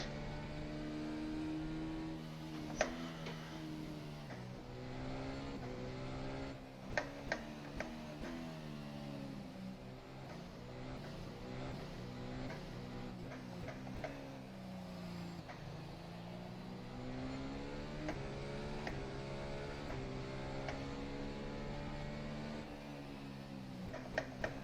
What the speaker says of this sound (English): We just go full throttle as much as we can on the actual lap.